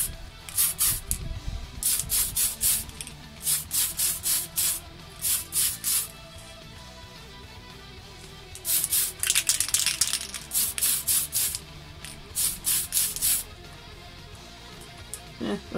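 Bursts of aerosol spray paint hiss in repeated short passes onto a Tamiya Ford Escort model car body, several quick puffs in clusters with brief pauses between, close and fairly loud, with no one speaking.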